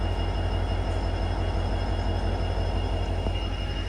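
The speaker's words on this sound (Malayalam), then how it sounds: "ഇവിടെ വേറൊരു ട്രെയിൻ ഉണ്ട്, Mangaluru junction Yesvantpur weekly express" Mangaluru Junction–Yesvantpur Weekly Express idles or rolls past on Indian railway track near Bantwal, a steady, loud, unbroken rumble with a low engine drone throughout.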